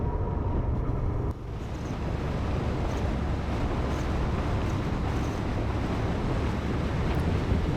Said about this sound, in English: Yeah, it's quite windy again.